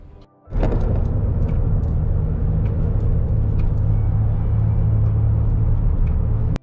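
A truck drives southbound on A1A, a coastal highway, with a steady, close, loud engine and road rumble that starts abruptly after a brief quiet moment and holds evenly to the end.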